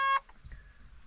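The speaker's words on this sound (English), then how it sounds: "sorry for the beeping" A cab warning alarm sounds inside an excavator: one loud, sharp electronic beep at the start, then a quieter steady tone and low cab rumble.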